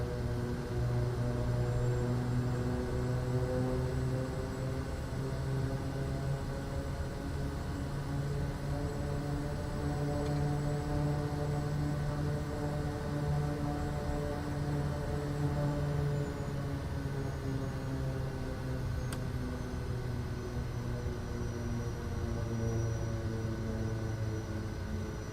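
A Kodiak propeller plane taxiing in Microsoft Flight Simulator 2024 on a hilly Papua New Guinea airstrip: a loud, steady engine drone with a constant buzzing tone that holds unbroken throughout.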